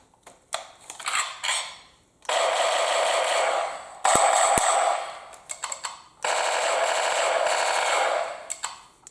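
Bursts of rapid automatic gunfire from the John Wick 2 catacomb shootout, loud and close, in three long sustained volleys separated by short gaps, with a couple of sharp single shots between them.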